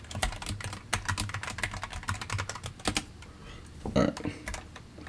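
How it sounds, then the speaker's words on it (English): A sudo password is typed on a computer keyboard at a steady, fast rate. Close, clicky keystrokes run for about three seconds and are followed by a few scattered presses, with faint talk from a person mixed in. "So we can type in our sudo password."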